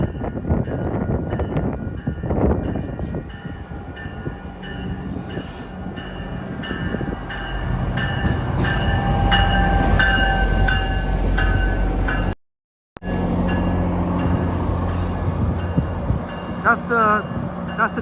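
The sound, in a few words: train passing by station platform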